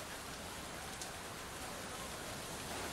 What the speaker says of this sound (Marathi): मुंबईमध्ये 4-5, 4:30-5 वाजल्यापासून जो काही मुसळधार पाऊस सुरू झालाय